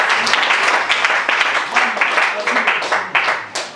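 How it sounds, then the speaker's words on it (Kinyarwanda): A crowd at a wedding farewell breaks into loud, sustained applause, with dense rapid clapping that surges in uneven bursts and voices mixed in. "Reka tumukomere amashyi menshi cyane."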